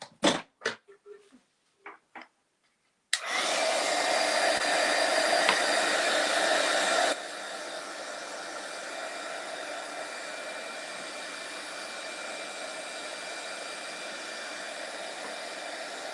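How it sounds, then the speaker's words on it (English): A heat gun blows steadily on a craft project with a big bow, a loud continuous whoosh that starts abruptly after a few short knocks, then drops to a quieter setting and keeps running to the end. "let's hit this with the heat gun"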